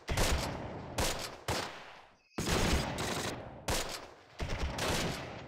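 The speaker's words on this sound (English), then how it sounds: "I'm gonna fire from several locations" Gunfire from several positions in the WWII game Close Combat: The Longest Day, with loud, sustained machine-gun bursts that stop and start in ragged volleys, separated by brief near-silent gaps.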